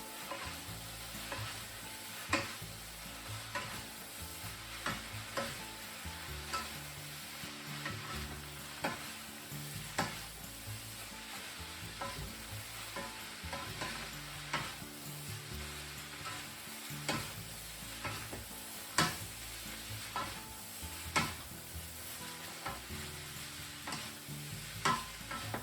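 Taiwanese yakisoba stir-fried noodles tossed with two spatulas in a hot pan, a steady sizzle with repeated scraping and clacking strokes in a loose rhythm, close and continuous with no voices.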